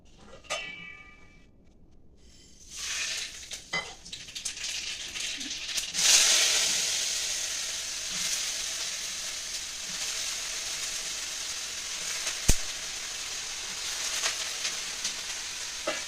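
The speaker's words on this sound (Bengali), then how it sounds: "দিয়ে দিচ্ছি একটু সর্ষে আর শুকনো লঙ্কা ফোড়ন দেবো" Mustard seeds and dry red chillies hit hot oil in a home kitchen, starting with quiet handling clatter, then bursting into a loud spluttering sizzle that settles into steady frying with a few sharp pops.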